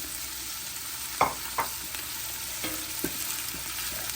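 Onion and chilies fry in a hot pan, a soft continuous sizzle with a few sharp spoon knocks and scrapes as they are stirred, close and fairly quiet.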